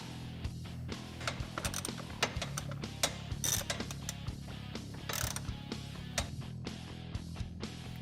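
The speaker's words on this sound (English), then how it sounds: "Next, you're going to loosen all of these bolts here." A ratchet clicking as the bolts on the air filter lid of a Honda Pioneer 1000-5 UTV are loosened, with close rapid ratcheting in short irregular bursts over a low engine-bay hum.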